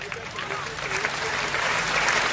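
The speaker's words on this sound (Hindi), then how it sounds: "तो एक बार इनके लिए तालियां बजा दो" Audience applause at a Hindi comedy poetry gathering (hasya kavi sammelan): a steady, dense wash of clapping from a crowd that holds for the whole stretch, with a voice talking over it.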